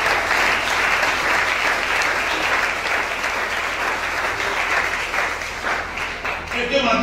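A church congregation applauds in a sustained, dense burst of clapping that fills the room, loud and steady throughout, mixed with cheering voices.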